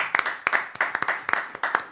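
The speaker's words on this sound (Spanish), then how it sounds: "Voy a aprovechar estos aplausos tan gentiles" Live studio audience at a radio comedy show clapping in a fairly brisk, pulsing rhythm, the bursts of claps rising and falling several times over a couple of seconds at moderate loudness.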